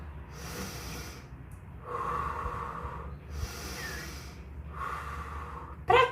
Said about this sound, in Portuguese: utilizar a respiração profunda. Então, puxa bem o pulmão